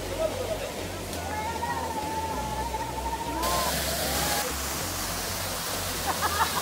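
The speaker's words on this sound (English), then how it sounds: "it's like a little saddle inside a mountain and then there's a waterfall from it" Steady rushing water roars throughout, loud and continuous like a nearby waterfall in El Yunque rainforest, Puerto Rico, with a voice speaking over it.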